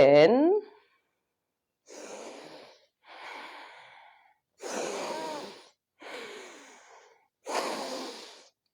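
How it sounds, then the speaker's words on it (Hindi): Deep rhythmic breaths in and out paced to a neck and shoulder exercise for cervical pain and frozen shoulder, five slow separate breaths, close and fairly loud, following a brief voice at the start. "ऊपर जाओ तो सांस भरो, नीचे आओ तो सांस छोड़ो"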